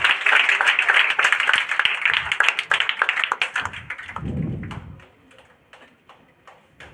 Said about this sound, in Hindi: चलिए ताली हो जाए।